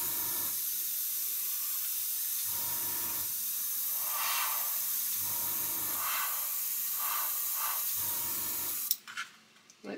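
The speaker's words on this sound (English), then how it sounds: "You can notice I'm not stopping the airbrush because I don't want any spatter." Airbrush spraying white paint to pre-shade a model jet's panels, a steady close hiss running continuously with faint rises and dips in airflow, then cutting off near the end.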